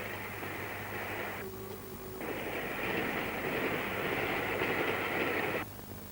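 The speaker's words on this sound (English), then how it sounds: "The train hurries northward." A train rumbles steadily along the track with a broad rushing roar that dips briefly, then swells louder and keeps going.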